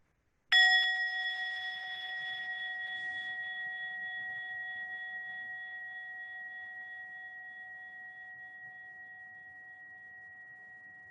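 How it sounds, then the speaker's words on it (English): A mindfulness bell is struck once during a group meditation pause in an educators' session. It rings out clearly and alone, its bright tone sustaining and slowly fading over about ten seconds. "listen to one sound of the bell."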